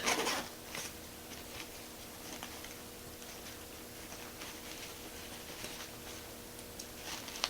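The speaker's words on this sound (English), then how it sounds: "At the top, you have 2 zippers that allow you to zip" A zipper on the top of an outdoor day pack is pulled with a quick rasp at the start, followed by faint rubbing and handling of the fabric in a quiet room.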